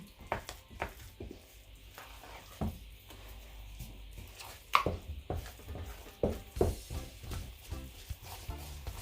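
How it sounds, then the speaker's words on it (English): Thick abolo batter being stirred by hand in a pot, uneven sticky squelches and knocks from the spoon recurring at irregular intervals, close and fairly quiet. "Stir it very well."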